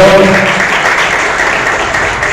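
An audience at a tango tribute show for Mother's Day gives loud, dense applause, a continuous close wash of clapping that barely lets up.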